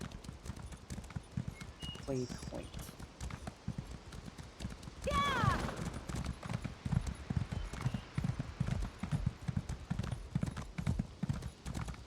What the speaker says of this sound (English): So, up on my horse.